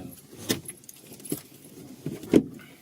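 Car keys jangle in short, sharp bursts, three distinct clinking rattles spaced apart, while someone fumbles to unlock a car in a parking area near Garjiya Temple, with quiet background between.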